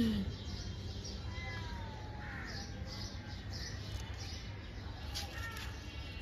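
A visiting cat meows nearby outdoors, with a few short, thin calls amid soft bird chirps and some quiet talking in the background.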